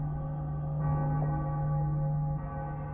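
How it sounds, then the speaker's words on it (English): Cracked bells in a video game give an eerie, atonal clang: a low, sustained, droning ring with a dull metallic swell, steady and fairly loud with no talk over it. "Bells were cracked too. Gave off this eerie, atonal clang."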